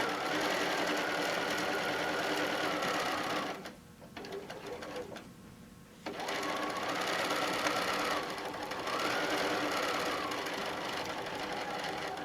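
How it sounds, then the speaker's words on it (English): A sewing machine stitches quilt fabric in long, steady runs of rapid mechanical whirring, pausing briefly in the middle before starting up again and continuing close and clear. "we're going to sew down on the other side"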